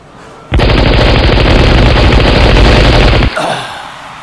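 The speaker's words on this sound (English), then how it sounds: "A little gunfire, Mr. Scarecrow?" A loud, sustained burst of machine gun fire rattles rapidly for about three seconds, then cuts off abruptly into a fading echo.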